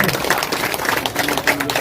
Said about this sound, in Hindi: आप लोग तालियों से अभिवादन करें, स्वागत करें।